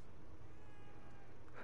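A cat meows once in the video game The Evil Within 2, a short faint mew near the end of a quiet stretch of low game ambience.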